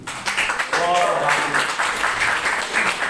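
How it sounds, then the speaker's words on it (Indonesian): Applause from a church training-session audience fills the room, a dense wash of clapping that stays steady throughout, with a voice sounding faintly underneath. "Tepuk tangan dulu."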